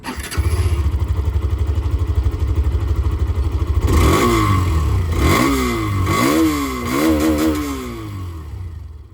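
A 2025 Hero Xtreme 125R motorcycle with its exhaust and muffler close by: a steady idle for several seconds, then repeated sharp throttle blips rising and falling in pitch, loud and unaccompanied by speech.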